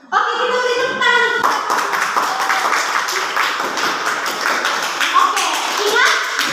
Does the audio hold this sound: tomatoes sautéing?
no